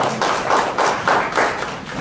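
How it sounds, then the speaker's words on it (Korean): An audience at a Korean startup forum gives a big round of applause. Dense, close clapping pulses in waves for the whole stretch with no talking. "큰 박수 한번 치고 시작하도록 하겠습니다."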